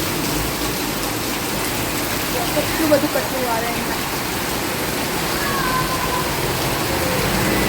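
Heavy monsoon rain pouring near a flooded house, a dense, even hiss that stays steady throughout while a person talks over it.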